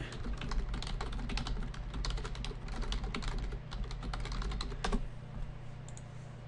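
Rapid, close keystrokes clatter on a computer keyboard in quick bursts as a file name is typed, then stop, with a low electrical hum underneath.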